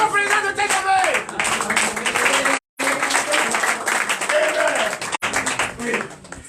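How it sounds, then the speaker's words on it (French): A church congregation at a testimony service in Comè, Benin, breaks into loud, sustained applause mixed with cheering voices, the dense clapping running for several seconds and broken by two brief dropouts. "Donnez l'acclamation au président de TGV."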